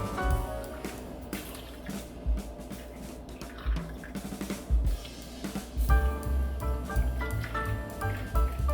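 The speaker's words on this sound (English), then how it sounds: "Let's pour our water in this." Water is poured steadily into a container, splashing and gurgling continuously, with the pitch rising as it fills.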